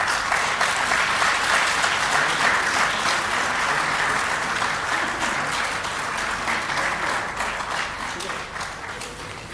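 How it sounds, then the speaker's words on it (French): Steady, dense applause from a large crowd at a ceremony marking President Ibrahim Boubacar Keïta's first 100 days, sustained throughout and slowly easing slightly toward the end. "sous vos applaudissements"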